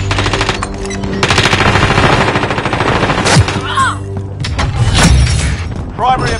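Heavy machine-gun fire and booming blasts in a Warzone match, loud sustained bursts with sharp impacts and some shattering, mixed with radio-style voice callouts throughout.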